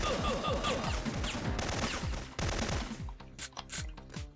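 Enemies open fire in the video game Syphon Filter, inside a stronghold's lower level: rapid, close bursts of automatic gunfire rattle continuously, then break into scattered shots toward the end.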